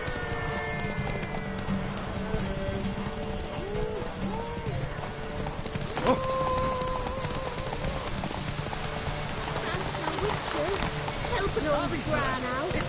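Steady clip-clop of the horse Roach galloping in the video game The Witcher 3: Wild Hunt, a continuous rapid hoofbeat rhythm under game music, with voices speaking over it.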